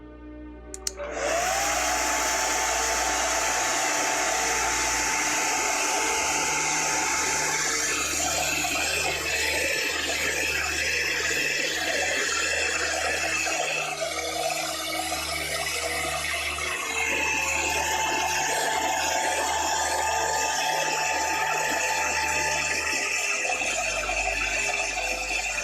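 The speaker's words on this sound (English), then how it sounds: "And I'm just going to use a hairdryer. Sorry, this is going to be a little bit loud." A hairdryer blows steadily and loudly for about twenty-five seconds, starting with a click and ending abruptly, with a constant whining airflow and no talk.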